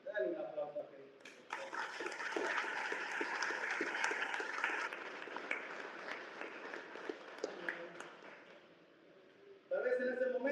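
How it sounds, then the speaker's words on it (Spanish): A church congregation breaks into sustained applause, dense clapping swelling for several seconds before fading, with a voice speaking at the start and again at the end. "Dale un aplauso a Cristo."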